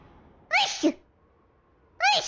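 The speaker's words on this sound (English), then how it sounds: "Lots of sneezing today." Two sharp sneezes, close and loud: the first with a short second burst right after, then a pause before the next sneeze starts near the end.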